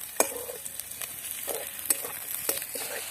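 Garlic and onions fry in a pan for kanda poha, sizzling softly while a utensil scrapes and taps in irregular stirring strokes.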